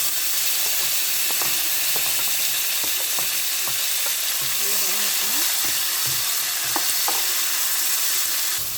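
Tomatoes and garlic frying in a pan on the stove, a dense continuous sizzle with repeated sharp spatula taps and scrapes as the mixture is stirred, close and steady throughout.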